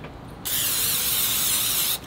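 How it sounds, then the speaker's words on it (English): A single steady hiss of olive oil spray onto chicken wings lasting about a second and a half, close and loud, then cutting off abruptly. "We're gonna hit them with a little olive oil spray."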